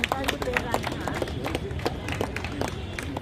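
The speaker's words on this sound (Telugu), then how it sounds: "చప్పట్లు కొట్టాలి మీరంతా." An audience claps steadily at a Louis Braille birthday celebration for people with disabilities, with dense, lively applause and a voice speaking over it.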